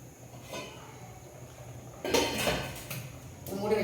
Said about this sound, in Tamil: மூடி வச்சிடுறேன்.